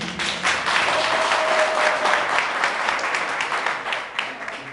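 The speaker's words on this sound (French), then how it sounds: "son excellence, feu Ahmed Sékou Touré, qu'il faut applaudir." Audience applause at a political party meeting in Morocco, a steady dense wash of many hands clapping at fairly close range that holds for the whole stretch and tapers slightly near the end.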